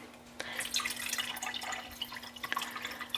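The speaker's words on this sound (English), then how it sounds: "I like to add the water first and then gently lay it into the pot so water doesn't splash everywhere." Water splashes and trickles into a cooking pot holding chicken, close and moderately loud, with uneven drips and pouring bursts over a steady low hum, no talking.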